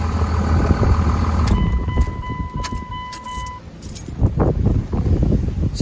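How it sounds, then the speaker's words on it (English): A 2001 Dodge Cummins diesel pickup engine idles steadily and nearby, a low continuous rumble with a brief high tone in the middle and some handling noise toward the end. "the truck runs like a freaking top"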